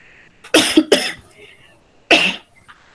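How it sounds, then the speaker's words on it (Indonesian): A woman teaching a lesson coughs three times in quick succession, two harsh bursts close together and a third after a short pause, loud and near, with faint breathing between. "maaf Ibu batuk ya, Nak."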